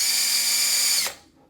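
A power drill spins a part for a Team Associated B74 RC car build, a steady loud whine with metallic harmonics that cuts off abruptly near the end and leaves quiet room tone.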